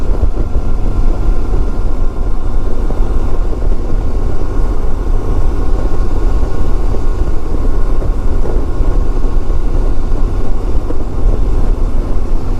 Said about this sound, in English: I don't know why my bike is so revved up.